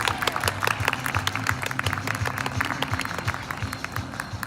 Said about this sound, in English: Let's welcome them back with a big round of applause.